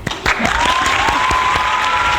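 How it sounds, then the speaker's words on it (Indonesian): Students at an Islamic junior high school event applaud Lia, a seventh grader who won a storytelling competition. The loud, dense applause from a close group runs steadily throughout. "Yuk kita kasih tepuk tangan lagi untuk Lia."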